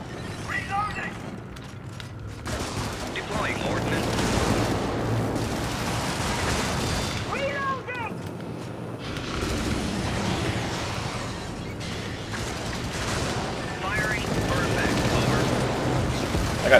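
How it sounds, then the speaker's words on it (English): A video-game strafing run lays down sustained gunfire and rumbling explosions under a constant dense din of distant blasts and mechanical noise, with a few brief tonal blips over it. "I got two obelisks with that one strafing run, that was really good."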